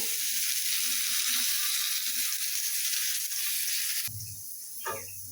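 Oil hits a hot pan holding salt and chili powder, giving a loud, steady hiss of frying that drops off abruptly near the end, followed by a few brief stirring scrapes.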